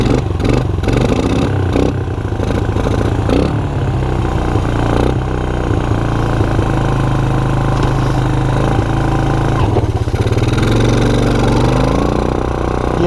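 An abandoned Suzuki LT160 ATV with a leaking carburetor runs loud and close. Its engine chugs and clatters unevenly, catching at first, then idling roughly with occasional revs.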